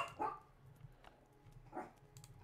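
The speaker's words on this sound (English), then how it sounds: "that dog is just driving me insane today" A dog barks and yips indoors, a few short quiet barks spaced irregularly over a faint room background, with no talking.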